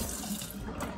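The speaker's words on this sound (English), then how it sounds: "let me rinse the container" Tap water gushes steadily into a container being rinsed in a kitchen sink, a close, continuous splashing rush lasting about a second with no voices.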